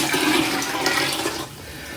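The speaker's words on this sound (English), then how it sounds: "I'm going to put the cold water in." Cold water rushing and splashing steadily as it is poured into a Royal Berkey water filter, loud and close, tapering slightly toward the end.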